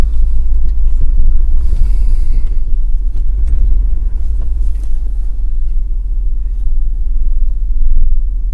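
A car engine idling smoothly after running fuel injection cleaner, a steady deep low rumble with an even, unbroken tone and no misfires, close to the microphone.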